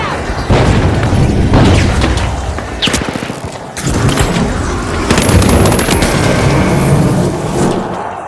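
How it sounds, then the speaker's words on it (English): Frag grenade explosions in a shooter video game, heavy loud booms among bursts of gunfire and battlefield clatter, dense and continuous throughout with a voice shouting briefly. "Frag grenade out!"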